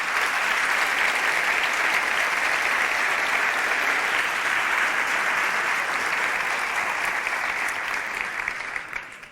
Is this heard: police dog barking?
no